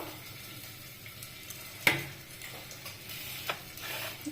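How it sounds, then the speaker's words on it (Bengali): Potatoes fry in hot oil for a mutton curry, a low steady sizzle broken by a single sharp click or clink and a few faint ticks, with no talking. "আমার এই দেখো মাটনে যে আলুটা দেবো, এই আলুটা ফ্রাই করছি"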